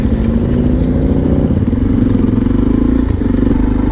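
Motorcycles pass close by with a loud, steady mid-pitched engine drone and a sustained tonal whine, rising slightly toward the end, with no voices over it.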